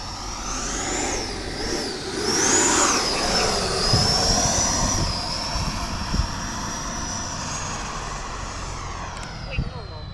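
An E-flite Viper 90mm RC jet plane flies low, its ducted-fan whine rising and falling as it passes nearby, with a person talking over it.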